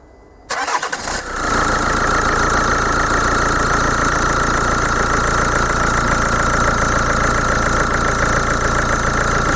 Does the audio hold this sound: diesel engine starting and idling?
yes